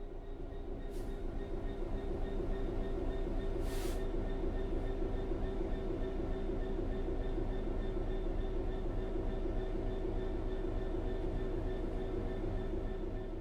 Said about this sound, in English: The train will then coast on level ground